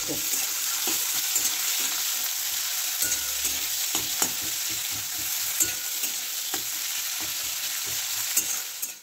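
Two large sliced onions frying in hot oil with bay leaves for a light Bengali chicken curry, a loud continuous sizzle broken by regular scraping stirs of a spatula in the pan.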